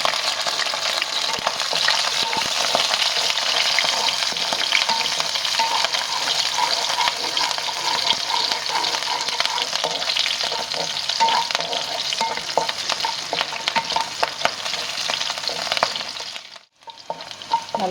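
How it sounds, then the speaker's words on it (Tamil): Green chillies and garlic sauté in a hot pan for Andhra chilli chicken, giving a loud, steady sizzle with scraping stir strokes throughout, no voices, before a brief drop near the end. "இப்போ இதில் கட் பண்ணி வச்சுருக்கிற பச்சை மிளகாய், பூண்டு ரெண்டுத்தையும் சேர்த்து ஒரு நிமிஷம் நல்லா வதக்கிக்கலாம்."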